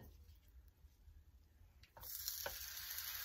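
A consomme-dipped tortilla for birria tacos hits a hot griddle, a quiet background hiss that suddenly swells into a loud, steady sizzle close up.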